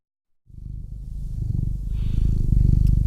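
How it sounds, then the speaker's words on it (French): A cat purrs close up, a steady low rumbling rhythm that begins after a brief silence and continues alone, growing slightly louder toward the end. "quelque chose d'auditif que tu entends comme le ronronnement d'un chat"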